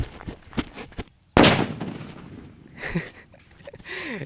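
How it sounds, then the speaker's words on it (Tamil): A nattu vedi country firecracker bursts with one sharp, loud bang that decays into a short rumble, after a few faint scattered pops. "நாட்டு வெடி தான் வெடிச்சுக்கிட்டு இருக்கிறோம்"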